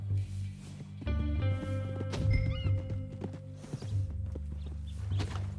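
A horse whinnies loudly in a long, shaky neigh, with hoof clops and other game sounds around it, in Red Dead Redemption 2.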